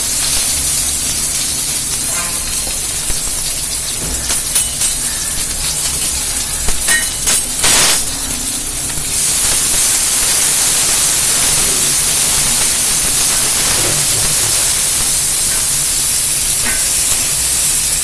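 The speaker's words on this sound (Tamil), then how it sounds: "உளுந்து கொஞ்சம் பாதி செவந்து வெங்காயத்தை போட்டுக்கலாம்." Small onions and urad dal fry in oil with a loud, constant crackling hiss close by. A few clatters come near the start before the sizzle settles into an even roar.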